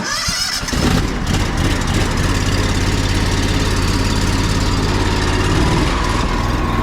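A pressure washer's gas engine fires up after a brief pull and settles into a steady, loud, droning run that continues without a break to the end, close by.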